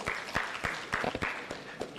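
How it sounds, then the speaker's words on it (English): A round of applause for the panel at a renewable energy conference and expo, a sparse, fairly close clapping with distinct, evenly spaced claps over a soft background. "Another big round of applause for our panelists."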